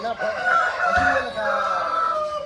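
A one-year-old rooster of about 3.5 kg and a large breed crows once, close and loud, with a long drawn-out call that fills the moment.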